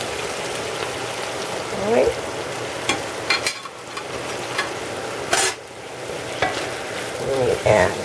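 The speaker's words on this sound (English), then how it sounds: "Then you add your frijoles to your chorizo, and just let that simmer." Pinto beans with their cooking liquid simmering with chorizo in a pan, a steady close sizzle with stirring and occasional louder scrapes and clatters.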